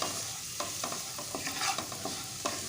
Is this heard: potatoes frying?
yes